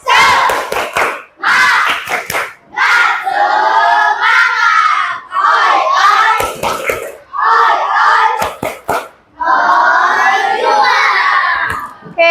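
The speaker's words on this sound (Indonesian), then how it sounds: "Tepuk semangat." Indonesian school class doing a rhythmic spirit clap, crisp clusters of synchronized handclaps alternating with loud group chanting from the children, close and energetic.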